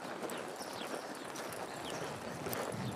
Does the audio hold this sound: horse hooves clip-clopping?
yes